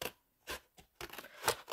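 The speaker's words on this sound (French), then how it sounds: "moi, je vais couper comme ça avec les ciseaux" Scissors cutting through flexible cardboard for a bookmark craft, a few crisp snipping crunches at uneven intervals, close and clear with no talk.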